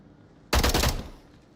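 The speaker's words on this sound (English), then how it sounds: "gunshots were made" A quick burst of automatic gunfire rings out in the VR shooter Onward during a competitive Entity vs KOVRA match. It hits loud and sharp, then trails into a short echoing tail over quiet background.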